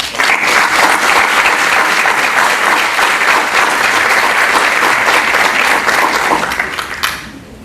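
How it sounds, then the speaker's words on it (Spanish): A large audience at a Lima Superior Court of Justice anniversary ceremony breaks into loud, sustained applause, a dense wash of clapping that holds steady for about seven seconds, then tapers off. "a quien acompañamos con un fuerte voto de aplausos."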